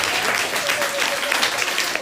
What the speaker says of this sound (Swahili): Makofi kwa ajili ya Yesu.